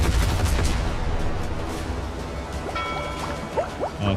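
A ship fires its cannons in a naval battle in the video game Windrose. Dense bursts of booming, crackling fire roll together, loud at first and easing slightly, with splashy noise underneath.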